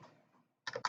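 Quick bursts of computer keyboard typing while entering a search command in a terminal, two close clattering clusters of keystrokes after a quiet pause.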